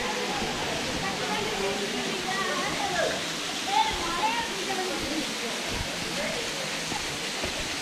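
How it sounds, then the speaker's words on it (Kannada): Steady broadband roar of the Five Falls waterfall at Courtallam, a constant rushing wash of falling water heard close and loud throughout, with no talking over it. "ನಾವೀಗ ಫೈವ್ ಫಾಲ್ಸಿಗೆ ಬಂದಿದ್ದೇವೆ."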